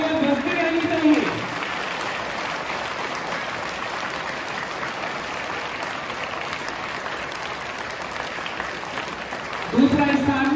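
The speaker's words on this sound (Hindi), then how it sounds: "तालियां बजती रहनी चाहिए" Students and guests at a school prize ceremony on Children's Day clap steadily for a first-place student, a dense, even patter of applause with a voice speaking briefly at the start and again at the end.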